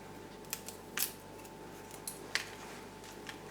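Scissors snipping off part of a Cattleya orchid while mounting it indoors, giving a few faint, sharp clicks spread over a few seconds against a quiet room hum.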